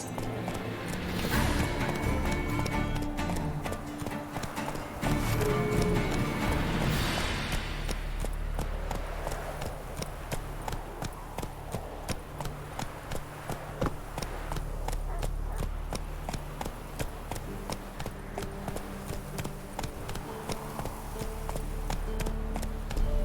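Roach, Geralt's horse in The Witcher 3, gallops with steady, rapid clip-clopping hoofbeats that continue throughout under a bed of background music.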